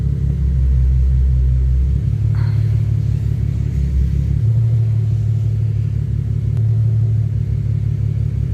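A Nissan Z car rolls slowly onto interlocking garage floor tiles, its engine a loud, steady low rumble close by with slight shifts in pitch as it creeps forward.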